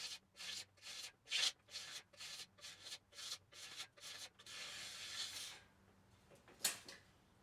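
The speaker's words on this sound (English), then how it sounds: "reduce the draw weight by taking even scrapes off each limb" A blade scrapes along the limbs of an Osage wood recurve selfbow in a steady series of short, rhythmic rasping strokes, close and fairly quiet, ending in a longer scrape and one sharp scratch.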